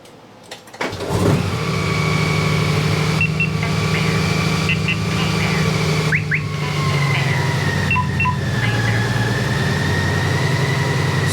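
A Honda Goldwing motorcycle with a DCT transmission fires up after a brief crank, then settles into a loud, steady idle close by, with faint higher tones and clicks riding over the engine drone.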